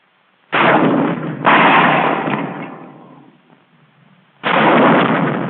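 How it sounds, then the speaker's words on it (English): M6 anti-tank rocket launcher firing, with sharp heavy blasts in quick succession, a roar that slowly fades, then another abrupt loud burst. "When the rocket fires, the launcher doesn't jump back."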